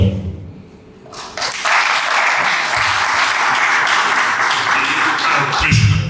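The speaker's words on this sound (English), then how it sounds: "Another round of applause for this great guy" A press-conference audience breaks into loud, sustained applause after a speech ends. The clapping starts after about a second of quieter sound, then holds as a dense, even roar of many hands, with a voice faintly underneath.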